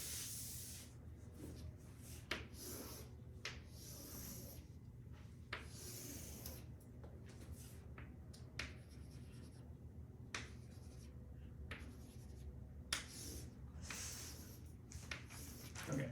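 A lecturer in a math class draws a diagram on a board, producing repeated faint chalk or marker taps and scraping strokes at irregular intervals over a low room hum, with no speech.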